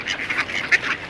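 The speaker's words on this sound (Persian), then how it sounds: "اومدیم داریم به مرغابیا نون میدیم." Ducks being fed bread give a quick run of loud, nasal quacks, several overlapping calls close by with one sharper burst near the end.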